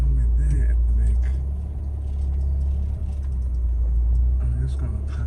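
Low engine rumble of a car rolling slowly to a stop to park, steady and close, with someone talking over it.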